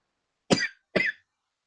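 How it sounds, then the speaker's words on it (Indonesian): Two short, sharp coughs in quick succession, close to the microphone, with silence before and after. "Saya sering batuk ya sebentar."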